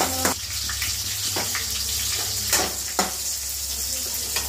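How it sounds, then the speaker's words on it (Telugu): Green chilli pieces frying in a little oil for cabbage chutney, a continuous close sizzle with several sharp scraping stirs of a spoon against the pan, no talking. "పచ్చిమిర్చి వేసుకొని కొద్దిగా ఫ్రై చేసుకోవాలండి."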